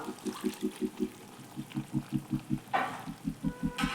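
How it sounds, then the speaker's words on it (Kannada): Masala frying in a pan for dum biryani with water added: a steady rhythmic scraping of a spoon through the wet masala, with a brief splash and hiss of water partway through, close and fairly quiet. "ಇವಾಗ ಸ್ವಲ್ಪ ನೀರು ಹಾಕೋತಾ ಇದ್ದೀನಿ."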